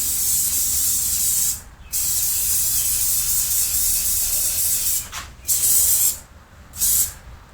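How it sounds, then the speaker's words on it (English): An aerosol spray can held upside down hisses in long continuous bursts to clear its nozzle, with short pauses between sprays, loud and close. "spray it upside down, 2 seconds to clear out the nozzle"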